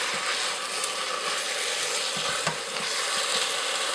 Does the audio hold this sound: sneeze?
no